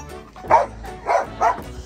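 A dog barks three times in a short, evenly spaced series, loud and close, with no other sound over it.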